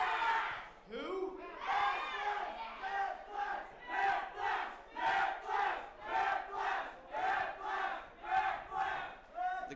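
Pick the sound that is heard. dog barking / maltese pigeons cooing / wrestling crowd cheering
wrestling crowd cheering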